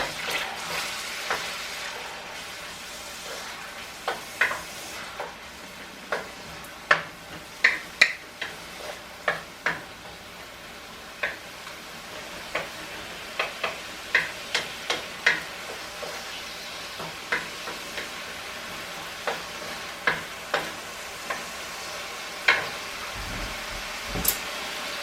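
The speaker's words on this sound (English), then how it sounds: "I just put in the ginger and the onions to stir fry till it gives out the aroma" Ginger and onions stir-fry in a pan under a steady low sizzle, with sharp spatula taps and scrapes recurring every second or so throughout; no one speaks.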